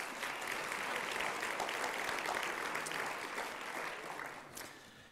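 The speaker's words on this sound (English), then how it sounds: "gave Lisa a big round of applause for everything you do." Sustained round of applause from a seated audience at a corporate speaking event, steady dense clapping throughout that tapers slightly toward the end, with no voices over it.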